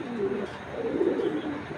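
Racing pigeons, including a short-tailed black checker cock, coo in a steady low murmur throughout, close and moderately loud, with no talk over them.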